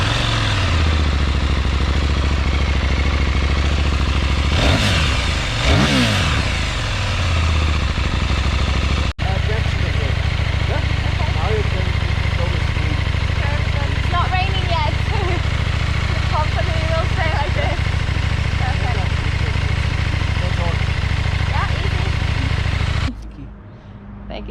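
A KTM Duke 890 R motorcycle engine is started, then idles and revs in loud rising and falling sweeps close by, with voices talking over it before the sound cuts off near the end.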